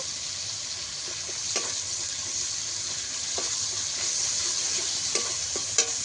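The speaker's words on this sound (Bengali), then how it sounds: "এবার মশলাটাকে ভালো করে একটু কষিয়ে নেব" Spice paste for a fish curry fries in a pan with a steady moderate sizzle, broken by occasional soft scraping stirs and small clicks, with no talking.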